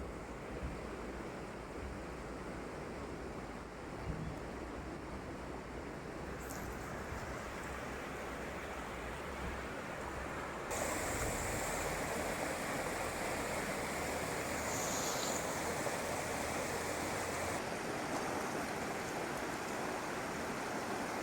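The Rishi river at Rishikhola in Sikkim flows over stones with a soft, steady rush, growing slightly louder midway, with some wind buffeting the microphone.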